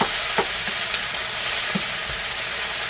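A stir fry of rice and mixed ingredients sizzles steadily in a pan, a loud close hiss broken by a few soft stirring scrapes and clicks, with no talk.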